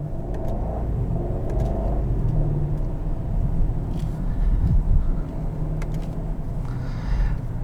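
A 2021 BMW 750i M Sport pulling away hard, a steady low engine rumble heard from inside the cabin that swells slightly and continues throughout.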